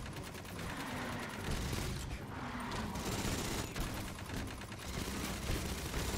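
Sustained automatic gunfire aimed at an alien in the sci-fi shooter Aliens: Fireteam Elite, loud rapid bursts running almost continuously with brief dips, no talk over it.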